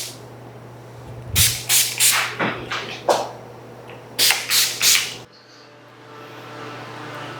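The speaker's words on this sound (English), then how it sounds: "We're just using the Urban Decay All Nighter Spray" Urban Decay All Nighter setting spray is misted several times, about ten short hissing pumps in two quick clusters, close and crisp over a low background hum.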